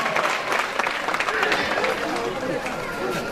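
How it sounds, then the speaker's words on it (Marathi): A crowd at a village gathering for a foundation's donation toward village development claps loudly and continuously, a dense, close roar of hands mixed with chatter. "सर्वांनी जोरदार टाळ्या वाजवायच्या"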